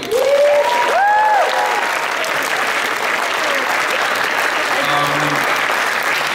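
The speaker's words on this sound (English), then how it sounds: "So if you want to give them a hand, that would be great." A convention crowd at an anime event's closing ceremony breaks into sustained applause, loud and continuous throughout, with a voice briefly cheering or speaking over the clapping near the start.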